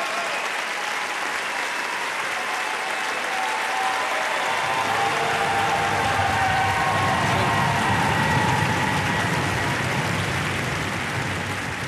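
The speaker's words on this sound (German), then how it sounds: "Na, wie man am Applaus gehört hat, ist er gar nicht so unbeliebt, der Meier" A live audience at a TV show greets Olympic ski champion Hermann Maier with applause, a dense sustained clatter of clapping that swells and stays loud throughout, with no speech over it.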